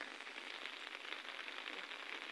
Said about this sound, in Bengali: সকাল সকাল বৃষ্টি হইতেছে।